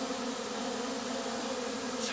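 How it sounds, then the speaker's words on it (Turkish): Honey bees buzzing in a steady, continuous drone while being caught from the wild, the hum close and even throughout with no voices. "baksana her yer arı güçlü"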